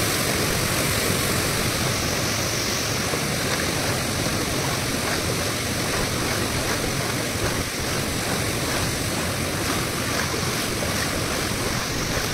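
Stream water rushing steadily over rocks at a snakehead fishing spot, a loud, continuous broadband wash with no pauses for the whole stretch.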